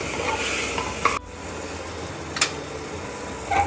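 Tomatoes with salt sizzle in a pan as a spoon stirs them, a steady close frying hiss broken by a few sharp scrapes of the utensil against the pan, no talking.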